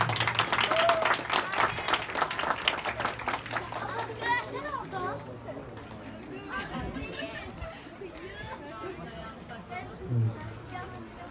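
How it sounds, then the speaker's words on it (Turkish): Guests at a henna-night wedding ceremony break into applause and cheering, loudest at the start and thinning into scattered clapping, while children's voices and chatter carry on throughout. "Şöyle bir alkış alalım."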